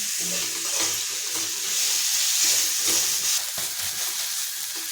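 Masala of ginger, garlic and chili powder is stirred and sautéed in a pan, giving a steady, close sizzle with repeated scraping strokes of the spoon and no talking.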